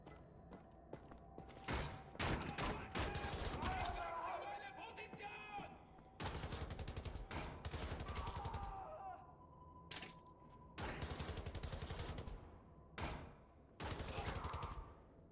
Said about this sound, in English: We can reload our plasma turret.